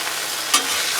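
Store-bought sandwich ham fries on a Blackstone griddle with a steady close sizzle, and a brief scrape or stir breaks through about halfway.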